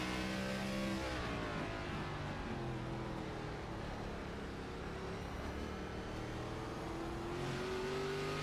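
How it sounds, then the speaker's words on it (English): Race cars lap Martinsville Speedway on a Thursday night, their engines droning steadily throughout with shifting revs as they work through the tight corners, a continuous loud roar with no voices. "Slow exit for Bauman that time, not able to get that thing turned"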